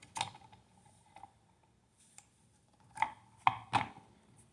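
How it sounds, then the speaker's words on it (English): Scraping paint off a black electrical wire at a wall outlet being repaired, heard as a few short, quiet scrapes and ticks with gaps between them, then a cluster of three sharper scratches near the end. "I'll scrape the paint off this black wire here."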